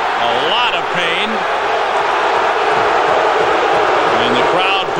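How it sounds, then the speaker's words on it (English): Hockey arena crowd at a 1995 Red Wings–Stars playoff game booing referee Kerry Fraser after an injury stoppage, a loud sustained roar of disapproval with voices and whoops rising through it. "the crowd booing as Kerry Fraser has come back"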